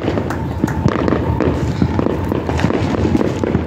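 Fourth of July fireworks burst and crackle nearby in a loud, continuous barrage of pops and thuds with no pause.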